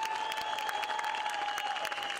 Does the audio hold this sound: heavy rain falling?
no